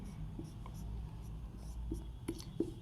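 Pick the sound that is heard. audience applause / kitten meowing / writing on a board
writing on a board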